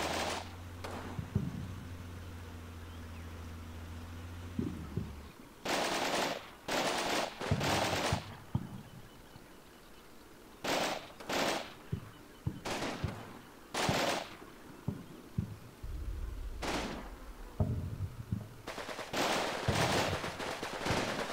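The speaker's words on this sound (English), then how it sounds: "so we've got a close-range firefight in the woods here" Close-range firefight in the woods in a video game: repeated loud bursts of machine-gun and rifle fire in short clusters with brief gaps and low rumbling between them, no talk.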